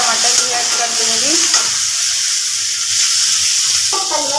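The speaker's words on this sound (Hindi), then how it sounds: "मैं एक टमाटर काट के रखी थी, तो मैं इसमें टमाटर भी ऐड कर दूंगी" Chopped tomato hits fried onions in a hot pan, so a loud close sizzle and hiss run throughout with stirring scrapes, and no one speaks.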